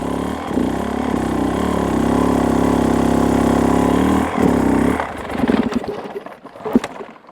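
A dirtbike engine runs loud and steady at a high, even pitch while the rider works the clutch. It then drops into uneven, sputtering revs that rise and fall near the end.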